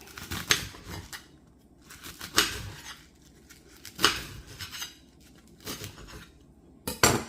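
A knife slices through rolled-up collard greens on a cutting board with about five crisp, separate chops spaced a second or two apart, close and fairly quiet, with no talking.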